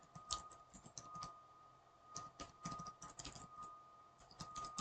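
Someone types on a computer keyboard while entering a domain name, making a quiet, close patter of irregular key clicks in short bursts and pauses. The typing is faint against a low hum.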